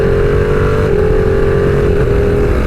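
A 2020 Ducati Panigale V2 sport bike engine droning loud and close as it shifts up through the gears with the quick shifter, its steady tone dipping briefly at each clean, clutchless change.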